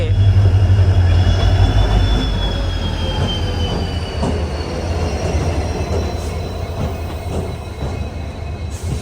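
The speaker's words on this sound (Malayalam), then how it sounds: "നമ്മുടെ ട്രെയിൻ ഇതാ പ്ലാറ്റ്ഫോം നമ്പർ 1 കടന്നു വരികയാണ്" A WDP 4D diesel-hauled special train pulls into platform 1 of a small, crowded station, a loud steady rumble of engine and wagons with long high wheel squeals running throughout, close by.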